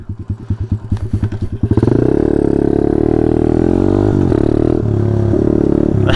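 A small 125cc motorcycle such as a Taotao DB17 rumbles with rapid pulsing engine putts, then rises into a loud, steady, close drone as it rides off.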